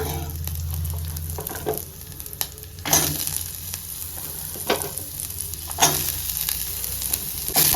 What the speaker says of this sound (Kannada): ಈರುಳ್ಳಿ ಹಾಕ್ಮೇಲೆ ಚೆನ್ನಾಗಿ ಫ್ರೈ ಮಾಡ್ಕೊಳ್ಳೋಣ